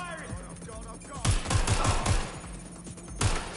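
Enemy gunfire in a video game erupts in a rapid burst of loud shots after a quieter opening stretch, followed by a scattered volley and one final sharp shot near the end.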